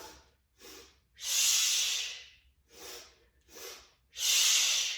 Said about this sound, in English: Double sniff up.